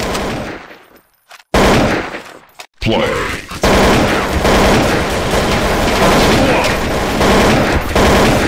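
Handgun fire in Counter-Strike: Source, loud and close, with sharp shots after a brief quiet stretch, then a dense sustained stretch of rapid gunfire layered with game noise.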